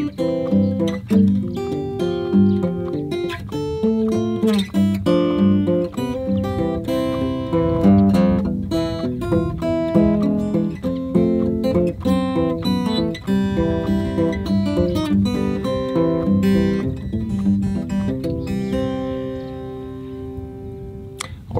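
Fingerstyle blues, Freight Train, played on a small acoustic travel guitar, with a steady plucked bass line under picked melody notes, ending on a held chord.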